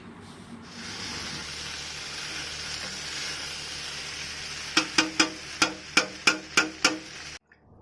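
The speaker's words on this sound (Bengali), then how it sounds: "তারপরে চালটাকে ঘি দিয়ে ভালো করে ভেজে নিচ্ছে" Rice grains fry in ghee with cashews, raisins, bay leaves and garam masala, giving a steady, moderate sizzle. Near the end comes a quick series of eight or nine sharp metallic taps before it cuts off.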